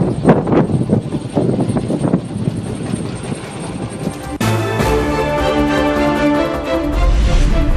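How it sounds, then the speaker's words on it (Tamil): An Indian Air Force helicopter that came down suddenly at Keerapakkam near Vandalur, Chennai, roars loudly and steadily with a droning engine and rotor noise and heavy wind buffeting, the pitch and texture shifting partway through. "சென்னை வண்டலூர் அடுத்த கீரப்பாக்கத்தில் திடீரென தரையிறங்கிய ஹெலிகாப்டர்."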